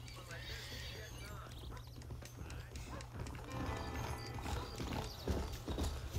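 Horse hooves clip-clop steadily in Red Dead Redemption, joined by a whinny, over a busy game soundscape with a low hum while a person talks.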